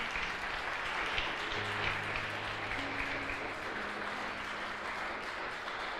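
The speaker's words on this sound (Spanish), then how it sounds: "Dale un aplauso al Señor en esta noche" Steady congregational applause fills a church during an evening service, a dense continuous patter of many hands held at an even level for the whole stretch, with low sustained organ or keyboard tones underneath.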